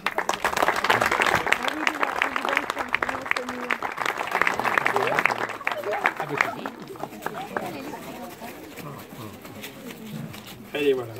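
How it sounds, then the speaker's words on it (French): Applause for a brass band at a town hall inauguration in Charentilly, a dense crowd clapping that fills the first half and then thins, with people talking over and after it. "On peut les applaudir."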